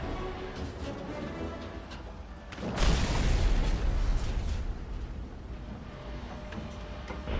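In a tank video game, cannon shells strike an IS-2 heavy tank, a dull booming impact rising out of steady rumbling battle noise and fading over a few seconds.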